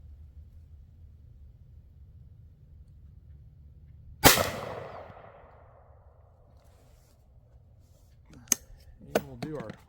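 A single sharp gunshot from a Rossi Tuffy shotgun chambered for .45 Long Colt and .410 rings out with a lingering decaying tail, followed a few seconds later by metallic clicks and clatter of handling the gun.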